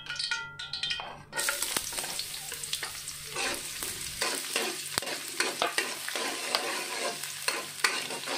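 Hot oil sizzles and crackles steadily while making fried rice, with a clatter of stirring against a pan at the start and scattered sharp pops throughout.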